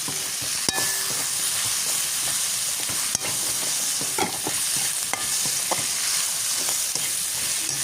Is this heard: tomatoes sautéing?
yes